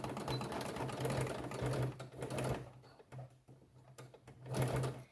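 A sewing machine stitches fabric for a beginner zippered pouch, back stitching at the end of a quarter-inch seam. Close, rapid mechanical whirring comes in bursts separated by short pauses.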